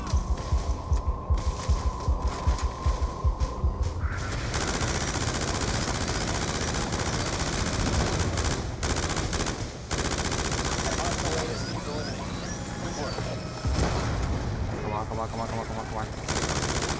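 Light machine gun fire in Call of Duty: Black Ops 2, loud rapid bursts at first, then continuous combat noise with further gunfire, mechanical clatter and game effects throughout.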